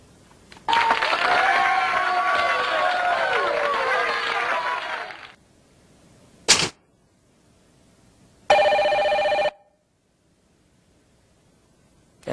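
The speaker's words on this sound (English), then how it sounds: "That's Mary's phone." A mobile phone rings during a multimedia preaching workshop, a long trilling burst of ringtone followed by a short blip and then a second bright, tonal burst, fairly loud against a quiet room.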